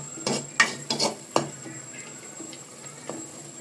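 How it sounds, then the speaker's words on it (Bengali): Beef and chana dal curry stirred in a pot, giving a few separate scraping and clinking strokes of a utensil against the pot over a faint sizzle, close and moderately loud, with no talk. "এরপরে আবার আমি হালকা করে আরেকটু নেড়ে দেব।"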